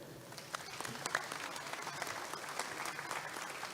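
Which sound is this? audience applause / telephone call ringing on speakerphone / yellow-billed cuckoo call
audience applause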